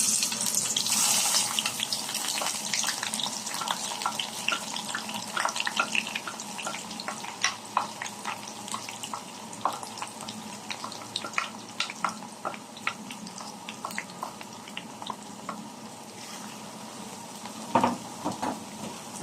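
Garlic, onion and ginger frying in hot oil for a bagoong with tomato dish, a steady crackling sizzle with scattered sharp pops and spits running throughout, loud and close.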